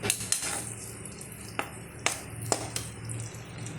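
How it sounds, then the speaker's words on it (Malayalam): Egg roast masala being roasted in a pan, with a faint steady frying hiss broken by several sharp clinks and scrapes of a spatula stirring against the metal. "നമുക്കിങ്ങനെ കുറച്ച് നേരം ചെറുതായിട്ടൊന്ന് റോസ്റ്റ് ചെയ്താൽ മതി."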